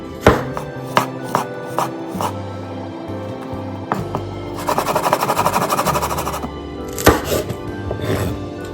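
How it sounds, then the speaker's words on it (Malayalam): A knife slices garlic on a cutting board, making a run of sharp, close, rhythmic chops and taps with quick bursts of rapid strokes. "വെളുത്തുള്ളി സ്ലൈസ് ചെയ്യാം കേട്ടോ."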